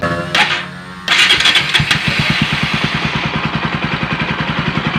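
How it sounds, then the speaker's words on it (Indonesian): A Bajaj Pulsar 200NS motorcycle engine cranks over and catches, then settles into a steady, throbbing idle close by. "Kita hidupin motor dulu."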